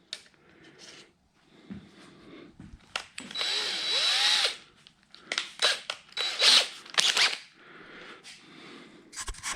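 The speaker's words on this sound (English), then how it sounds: "So what I want to start with is a small diameter drill." A small diameter drill bores into a replacement Mustang hood casting for a Cobra Jet shaker hood scoop, with short bursts of high-pitched whining and grinding separated by pauses, close and fairly loud, no talking.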